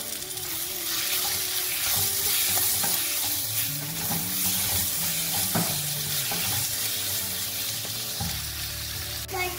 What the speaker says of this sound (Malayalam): ഇനി അത് നന്നായിട്ടുണ്ട് സോട്ട് ചെയ്തെടുക്കാം.